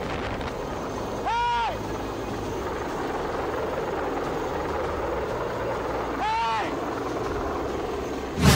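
A helicopter flies low overhead above people at sea in the West Philippine Sea, a loud, steady rotor roar with wind buffeting throughout and two brief sweeping tones cutting through.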